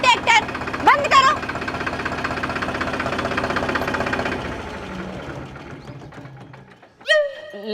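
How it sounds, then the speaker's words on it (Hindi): A tractor engine idling nearby with a rough, knocking mechanical chug that fades down toward the end, while people talk over it in a rural village setting. "बंद करो ट्रैक्टर, बंद करो।"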